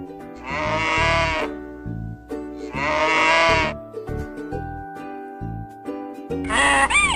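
A young farm calf calls out in three drawn-out, bleating cries, loud and close, separated by short pauses.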